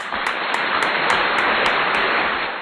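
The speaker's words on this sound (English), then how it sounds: "Let's all give ourselves a little bit of a round of applause, huh?" A small round of applause, dense steady clapping from a group filling the moment evenly, fairly close and moderate in level, with no voices over it.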